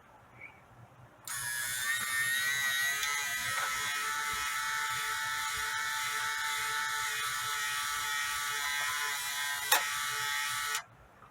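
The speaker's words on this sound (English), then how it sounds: "Here's the door opening mechanism." A small electric motor drives the door-opening mechanism of a Meccano elevator model, giving a steady, thin whine for about nine seconds that starts and stops abruptly, with a faint click near the end.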